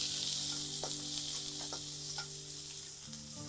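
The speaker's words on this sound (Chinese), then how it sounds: "重新加油，放入辣椒，大火翻炒一下" Chili peppers stir-fried over high heat in oil in a wok, giving a steady, loud, close sizzle with a few scraping stirs and clinks, no voices.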